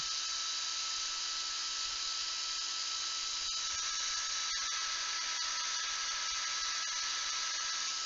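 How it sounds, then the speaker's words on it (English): A power drill running at full speed whines continuously at a high, steady pitch for several seconds, with faint clicks and handling noises underneath. "And my drill's on full speed."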